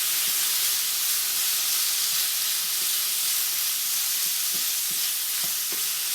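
Pork and red peppers sizzle in a pan with a steady, loud hiss, punctuated by occasional soft knocks of a utensil stirring them.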